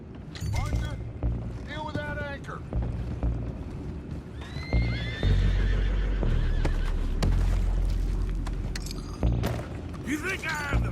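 Horses whinny and neigh several times in Red Dead Redemption 2 amid clip-clopping hooves and a busy, rumbling background, with people talking over the commotion.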